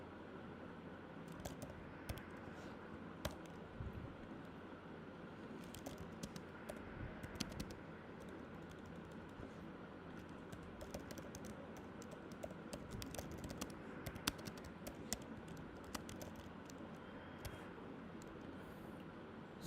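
Code being typed on a computer keyboard during a live C and C++ lesson, a faint continuous patter of key clicks in uneven bursts over a low background hum.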